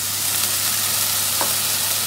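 Mushrooms fry in a pan with a steady, loud sizzle after water is added, a dense continuous hiss with a brief bubbling flare partway through.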